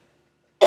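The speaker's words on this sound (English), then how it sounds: "I've had a cough for a long time now" A single loud, close cough bursts out suddenly after near silence, one sharp rough burst of breath.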